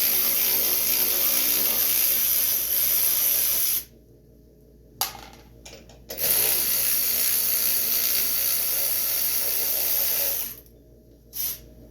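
A ratchet with a 1/2-inch socket works on the deck cover bolts of an Encore Extreme zero-turn riding lawn mower, heard as bursts of steady mechanical whirring broken by short silences.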